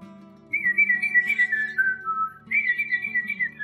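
Someone on a variety show whistles two short wavering tonal phrases, fairly close and clear, over a low steady background hum.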